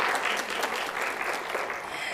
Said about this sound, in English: Yep, round of applause for that.